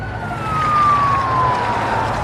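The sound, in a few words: police sirens approaching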